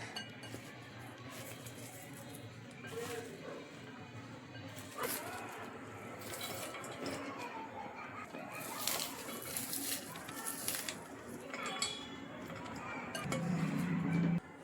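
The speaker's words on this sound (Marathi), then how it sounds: "कापलेला कांदा इथे सगळा असा मोकळा करून घ्यायचा आहे।" Sliced onions for crispy kanda bhaji are loosened by hand in a bowl, making a close, continuous soft rustle with scattered light clinks against the bowl and faint background noise.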